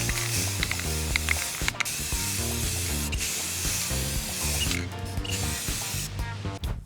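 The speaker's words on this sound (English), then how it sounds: "Now we are just gonna spray some gold." Gold spray paint is sprayed onto a stool in bursts, with hissing sprays broken by short rattling clicks of the can.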